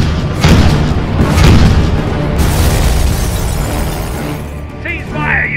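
Cannon fire from airships in an animated sky battle: a series of heavy booming blasts that roll over one another, loud and close, with raised voices mixed in.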